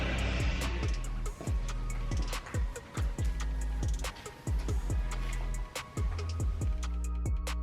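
A tire changer machine works a roller between a car wheel and the tire bead to loosen it. A steady low motor hum runs throughout, broken by frequent sharp clicks and knocks, with no talking.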